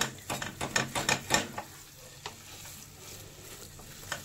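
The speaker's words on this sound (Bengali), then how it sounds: "এত আওয়াজ হচ্ছে, আসলে ঠিকমতো কড়াইটা বসেনি জানো তো, তার জন্য আওয়াজ হচ্ছে।" A wok that is not seated properly rattles on a stove while paneer bharta is cooked, giving a quick run of sharp, close clatters in the first second and a half, then a few scattered knocks over a low sizzle, with no voices.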